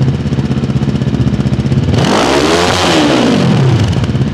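Close, loud Bristol Bobber 700 motorcycle with a stock muffler, ticking over in an even, rapid thump before a strong throttle blip surges the engine up and back down, then it keeps idling.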